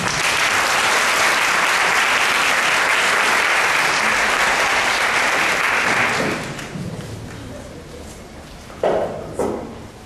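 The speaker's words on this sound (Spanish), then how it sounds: "un aplauso para la doctora" A lecture audience applauds a doctor introduced as the speaker, a dense, loud wash of clapping that holds steady for about six seconds, then thins and fades with a few scattered claps and thumps at the end.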